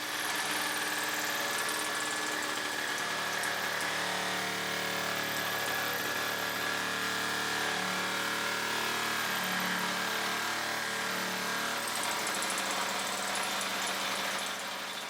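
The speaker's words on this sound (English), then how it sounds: "This will be the first time I use a nibbler, so I don't know how it's going to turn out." An electric nibbler cuts through 0.5 mm stainless steel sheet for a router table top, producing a steady, loud, continuous mechanical buzz with a sustained motor hum that runs unbroken for the whole stretch.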